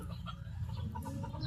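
Soft, low clucking from a rooster or chickens, several short murmuring calls close by over a steady background hum.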